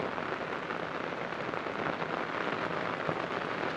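Heavy rain pours steadily onto a street where a vegetable cart stands, a dense and continuous hiss with no pauses and no talking.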